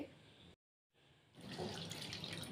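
Faint running water, a brief silent gap, then a fuller splashing stream from a tap as cluster beans are rinsed beneath it.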